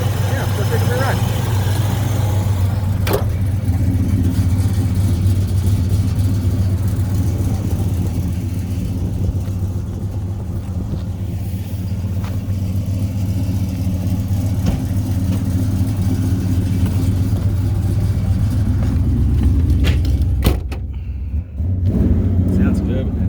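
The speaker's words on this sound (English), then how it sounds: "Sounds good with that exhaust on it" A Chevrolet Chevelle SS convertible with a 454 engine, four-speed and Flowmaster 40 exhaust rumbles steadily while driving, a deep, continuous low drone heard close, with a sharp clatter near the end.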